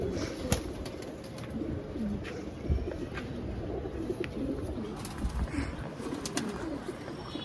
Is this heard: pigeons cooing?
yes